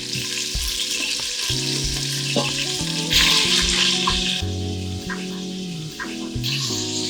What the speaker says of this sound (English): we're just gonna brown this until it's nice and brown on all the sides